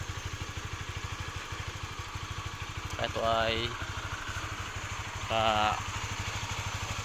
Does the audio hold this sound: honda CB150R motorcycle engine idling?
yes